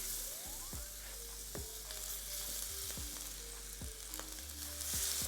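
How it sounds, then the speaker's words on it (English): Steak bites sear in olive oil in a cast iron pan on very high heat, giving a continuous hiss with occasional utensil clicks and scrapes, and no voices. "Now I have my cast iron on very high heat, as you can see. Now I'm going to add in my steak."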